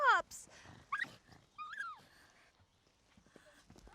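Small pug dogs yelp and whimper in a film scene, a few short high-pitched cries and whines scattered among quiet background noise and faint voices.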